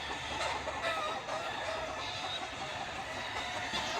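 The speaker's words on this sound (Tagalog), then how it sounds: "gabanha ng manok" Clucking and crowing from chickens around a rural lot, fairly close and continuous over a steady outdoor background, with no voices.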